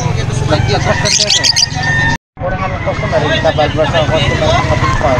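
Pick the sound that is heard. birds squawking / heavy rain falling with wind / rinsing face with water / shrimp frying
birds squawking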